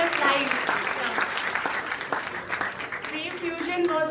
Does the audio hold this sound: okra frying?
no